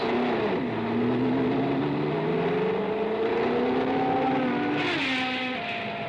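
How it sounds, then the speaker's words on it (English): A Texaco-fueled JPS Lotus Grand Prix racing car on a practice run, its engine whining loudly and climbing in pitch through repeated gear changes as it passes close by. "Ride with him on this practice run in his Texaco-fueled JPS Lotus"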